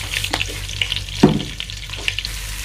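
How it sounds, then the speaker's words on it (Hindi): Cumin seeds crackle and sizzle in hot oil for a dal tempering, with a sharp burst of popping partway through and softer spattering around it, close by. "इस तड़के को अच्छे से बनाएं"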